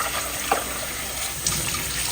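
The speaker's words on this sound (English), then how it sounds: "And then add a little water to the pot." A little water running into a pot of drained pasta, a steady soft stream with light splashy trickling and a couple of small clinks, nearby and without speech.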